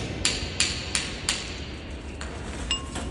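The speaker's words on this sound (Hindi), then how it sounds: "ये फास्टनर ठोक चुका है। अब इसको और टाइट कर देंगे।" Four sharp hammer blows strike a fastener being driven into a tight drilled hole for mounting a ceiling fan, evenly spaced and close, followed by a few lighter taps.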